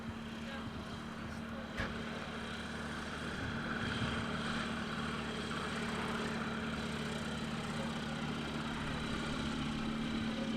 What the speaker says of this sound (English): We have another DA20 actually taxiing right now.